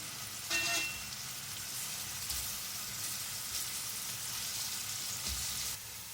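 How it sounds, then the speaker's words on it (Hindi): Onions fry toward light brown for an Afghani chicken pulao, making a soft, steady sizzle with a brief stirring clatter at the start, and no speech. "प्याज का लाइट ब्राउन कलर करना है, बहुत ज़्यादा डार्क नहीं करनी है इसको।"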